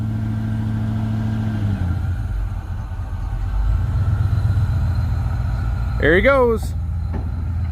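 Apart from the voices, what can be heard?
Ford Bronco with rusted engine backing up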